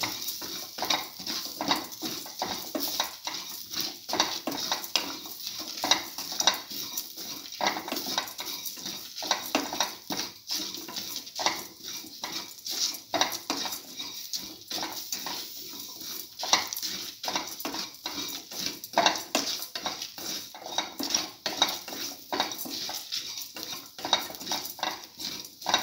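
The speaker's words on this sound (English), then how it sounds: "So salt and mix thoroughly" Chickpea coconut tamarind rice is stirred and mixed with salt in a pot, producing continuous irregular scraping and clinking of a spoon over a faint sizzle.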